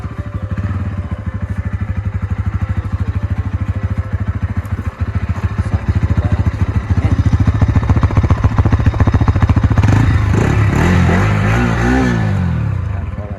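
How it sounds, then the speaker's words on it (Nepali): A Bajaj Pulsar NS motorcycle on a ride from Bheletar to Khandbari bazaar runs loud and close with a steady throbbing engine note, rising as it revs harder partway through. "हेर्न सक्नुहुन्छ बाइकको साउन्ड छ"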